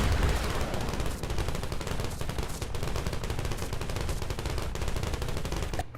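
An 18 mm machine gun in the video game Wreckfest fires at 900 RPM in one long, unbroken burst, loud and close, with rapid shots blurring into a dense rattle and no talk.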